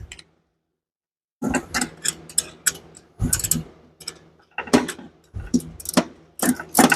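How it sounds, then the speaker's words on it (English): A ratchet wrench works on the engine of a budget GT45 turbo Mustang, rattling in a series of quick, sharp clicking bursts separated by short pauses. The sound is close and fairly loud, with no talking over it. "there's the wrench."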